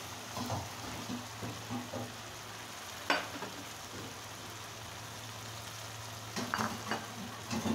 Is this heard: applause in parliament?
no